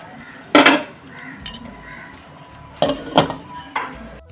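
Metal spoon stirring sambar in a cooking pot after asafoetida goes in, giving a few loud clinking, scraping bursts separated by quieter stretches.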